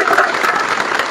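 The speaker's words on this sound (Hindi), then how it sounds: "ये 99 लाने वाले हैं, जोरदार तालियां" Loud, dense applause from a school group cheering students for their high math scores, steady clapping throughout without a break.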